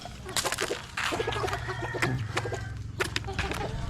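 Farm chickens cluck close by in quick, repeated bursts, with a rooster crowing now and then among them.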